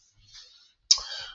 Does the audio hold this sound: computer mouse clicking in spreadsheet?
yes